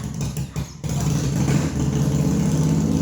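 Vehicle engines rev hard and steadily as they approach, a loud continuous low rumble with a brief dip before the roar builds and holds.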